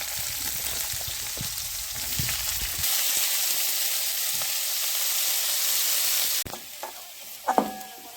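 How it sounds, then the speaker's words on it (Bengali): Potatoes and carrots sizzle steadily in hot oil in a pan, a loud continuous crackling hiss, with a few clinks and scrapes of stirring toward the end. "এদিকে একসঙ্গে ভেজে দেবো আলু আর গাজর"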